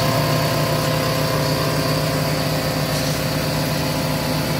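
A Porter Cable 60 gallon 240 volt air compressor runs in a shop, a steady, close motor drone with a constant hum and mild vibration, unchanging over a few seconds.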